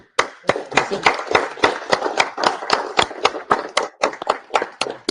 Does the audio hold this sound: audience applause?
yes